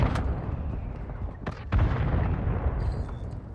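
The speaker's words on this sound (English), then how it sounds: "Friendly airstrike in the AO." Friendly airstrike bombs detonate in the mobile shooter Warzone Mobile, heavy distant booms rumbling through constant battlefield noise, with a couple of sharper blasts standing out in the middle.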